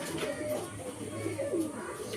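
Nearby pigeons coo in low throaty murmurs over a short stretch, with a person speaking at the same time.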